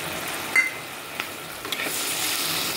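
Tomatoes go into a pan of frying prawns with onion, salt, turmeric and spices, giving a few soft plops and clatters before a steady, close sizzle builds and carries on alone.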